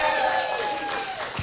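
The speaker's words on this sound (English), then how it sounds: "let's give them all a big round of applause" Outdoor crowd of union retirees and supporters at a get-out-the-vote bus stop in Osceola County, Florida, applauding and cheering steadily, with a whistle-like tone riding over the noisy wash.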